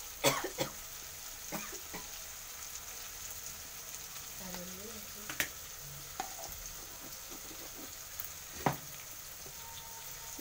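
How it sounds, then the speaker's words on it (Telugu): Food is stirred in a frying pan after paste and salt go in, with a constant faint sizzle and scattered scraping clacks of the spoon against the pan, plus an occasional cough. "ఇక కలుపుతున్నాడు చూడండి ఫ్రెండ్స్"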